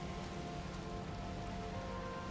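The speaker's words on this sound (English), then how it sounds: "Oh, hey, the rain's ending." Steady rain falls in the video game Valheim, a soft even patter of drops on surfaces with no voices.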